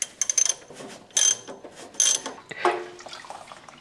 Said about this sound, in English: Loosen off the filter and let it drain.